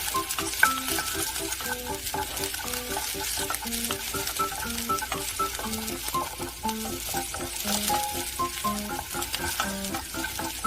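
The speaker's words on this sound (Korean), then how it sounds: "팬에 식용유를 두르고 마늘을 넣어 노릇해질 때까지 볶아요." Garlic sizzles steadily in cooking oil in a pan, a constant close frying hiss with repeated stirring and light utensil scrapes throughout, and no voices.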